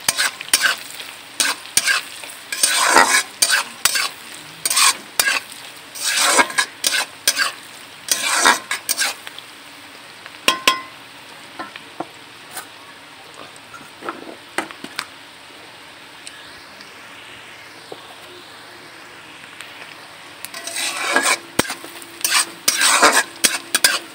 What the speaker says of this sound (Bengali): পেঁয়াজগুলো আমার একটু ভাজা ভাজা হয়ে গেছে